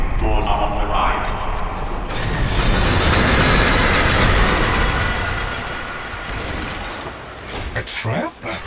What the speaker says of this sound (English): The next train is arriving